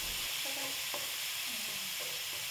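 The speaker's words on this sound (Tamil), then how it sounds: "இப்போ நம்ம ஒரு கடாய் எடுத்து அடுப்பில் வச்சுட்டு கடாய் சூடானே கொஞ்சமாக தேங்காய் எண்ணெய் சேர்த்திக்குங்க" Coconut oil frying in a hot kadai gives a constant, dense sizzling hiss, with a few soft scrapes of a stirring spoon breaking through close up.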